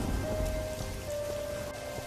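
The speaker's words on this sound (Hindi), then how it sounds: "लखन उस तेज बारिश में घर के लिए चल पड़ता है" Heavy cold-season rain falls in a dense, continuous patter and hiss on nearby surfaces, steady throughout, with a faint tonal hum beneath and no talking.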